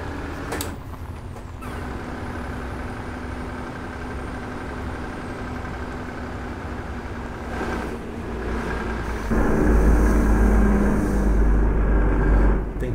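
In Euro Truck Simulator 2, a heavily loaded bi-train truck pulls away slowly, its engine a steady low drone that swells and grows louder toward the end, with no voices over it.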